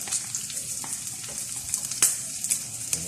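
Browned pork with freshly added onions sizzling in a pan, a soft continuous frying hiss with faint crackles and an occasional stir, moderately quiet and with no talking.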